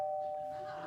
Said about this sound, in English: I didn't know we had a doorbell.